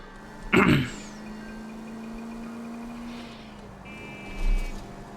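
A car drives in the L.A. Noire video game, a low engine hum running steadily under a sharp thud near the start and a brief bump near the end, with no talking.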